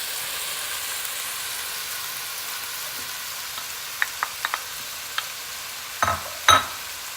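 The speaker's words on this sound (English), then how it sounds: "I've got a pound of ground beef already frying up in here in the pan" A pound of ground beef fries in a big pan, giving a steady, soft sizzle close by, broken by a few light taps and scrapes of a utensil and a louder clatter near the end.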